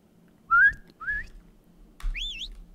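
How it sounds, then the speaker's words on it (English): A player character in Ranch Simulator gives a short two-note whistle, followed by a longer wavering whistled call, loud and close over near silence. "Whistle."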